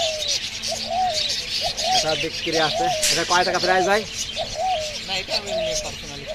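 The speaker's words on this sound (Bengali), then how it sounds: "ভাইয়ের হাতে ইশারায় কিন্তু ঘুঘু পাখি রাখতেছে" At a bird market, a dove coos nearby in repeated soft, throaty phrases, with other birds chirping around it while someone talks over the calls.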